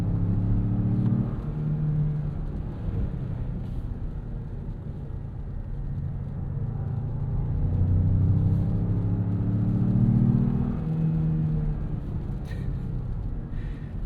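A 2026 Jeep Grand Cherokee with the new Hurricane turbo engine revs while driving on a road, a steady engine drone rising and falling with a slightly tinny tone on the down rev, steady road rumble beneath.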